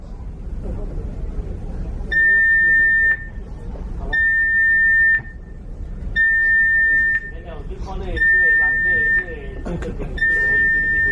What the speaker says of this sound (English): The general emergency alarm is about to be sounded for exercise purposes only.